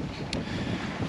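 Wind gusts roar across a First 22 sailboat heading back off Noirmoutier, a continuous rushing noise with a brief hiss, loud and close to the microphone, with no talk.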